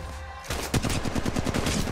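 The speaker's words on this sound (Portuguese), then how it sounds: "Disparos feitos contra mim." Rapid bursts of automatic gunfire in the mobile battle-royale game Apex Legends Mobile, starting after a short quiet lead-in and continuing as a fast, evenly spaced string of close, loud shots.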